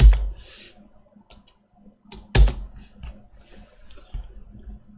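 Computer mouse clicks during 3D modelling software work: a sharp loud click at the start and another midway, with softer scattered ticks and taps between them in a quiet room.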